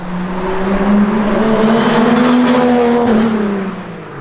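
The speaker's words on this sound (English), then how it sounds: "Now that he's done his flyby" A Ford AU Falcon roars past on a multi-lane road, its engine note rising and falling in pitch as it approaches and pulls away, loud and steady throughout the pass.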